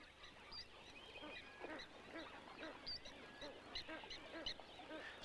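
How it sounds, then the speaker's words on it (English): Spur-winged geese calling in a swamp while they root in the mud for food, with repeated honking and quacking calls scattered through the clip over a steady wetland background. "Spur-winged geese go bottoms up to root in the mud."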